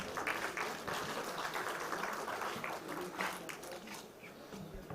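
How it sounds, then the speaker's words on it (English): An audience at an IEC conference session on artificial intelligence applauds in a steady, dense round of clapping that welcomes speakers, sustained evenly throughout at moderate loudness in a large hall. "I request the audience to kindly welcome them with a round of applause."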